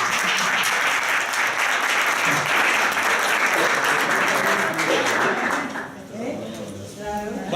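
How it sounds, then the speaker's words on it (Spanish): An audience at a Carabanchel history and heritage event applauds in a sustained wash of many hands clapping, fading toward the end as a voice begins to speak. "Un aplauso, ¿no?"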